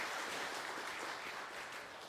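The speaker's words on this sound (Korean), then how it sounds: "우리 박수로 환영하겠습니다" A congregation at a Sunday church service claps steadily in welcome for newly registered members, a soft, even wash of many hands with no voices over it.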